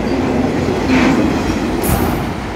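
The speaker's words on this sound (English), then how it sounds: "That was a long CN train." Long CN freight train A439 passing in Chatham, a steady loud rumble of rolling railcars with wheel squeal and clickety-clack throughout, no voices.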